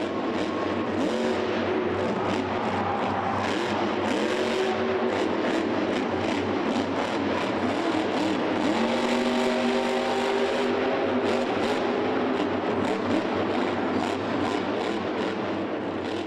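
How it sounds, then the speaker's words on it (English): Grave Digger monster truck engine at a Monster Jam show in the Georgia Dome, Atlanta, loud sustained roar with repeated rising and falling throttle revs over a long stretch, echoing in a large arena. "Let's just listen to the throttle control of Gravedigger and Dennis Anderson."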